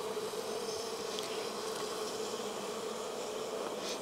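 Honey bees swarming over a brood frame pulled from a beehive, a steady dense buzzing hum filling the air at moderate loudness with no voices.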